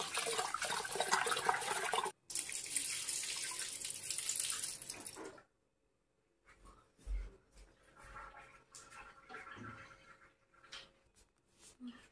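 Running water splashes and swishes loudly for several seconds, then stops; afterward come quieter wet stirring and rinsing sounds with brief pauses, as rice is washed for biryani outdoors.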